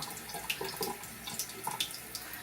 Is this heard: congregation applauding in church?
no